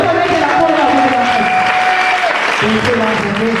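A church congregation applauds and cheers throughout, a steady, loud wash of clapping and voices with no break.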